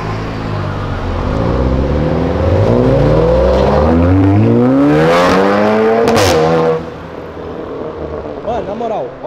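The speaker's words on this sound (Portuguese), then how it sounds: "Olha essa troca de marcha da S3." An Audi S3 accelerating hard through the gears during a hot lap, the engine note climbing in a series of rising sweeps with sharp breaks at each shift, loud and close, easing off near the end amid voices.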